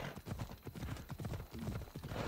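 Horse hooves clatter in the video game Assassin's Creed Odyssey, a fast, steady clip-clop of galloping close by that runs without a break and stays loud throughout.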